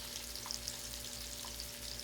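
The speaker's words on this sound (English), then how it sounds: "I'm going to go ahead and add my roux right now." Steady sizzling and frying as a gooey roux is stirred into vegetables in a hot pan for seafood étouffée, a soft continuous hiss with small crackles and a low hum underneath, fairly quiet and without talking.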